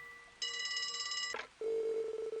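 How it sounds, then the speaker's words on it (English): A telephone rings in the video game Trails to Azure, a bright multi-tone electronic chime followed by a lower buzzing electronic tone, faint and alone with no talk. "Hey, we got a phone call."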